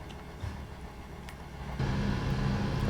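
Truck engine of the R87 in the video game SnowRunner, fitted with highway tires, a low steady drone that grows louder and heavier partway through as the engine loads up.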